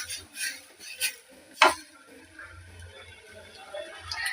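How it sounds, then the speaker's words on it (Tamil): Spatula stirring onions softening in hot oil in a pan for an egg masala, with a few clinking scrapes and one sharper knock against the pan, close and moderately loud, and a faint low hum beneath. "இது எண்ணெயிலே கொஞ்சம் வதங்கட்டும்"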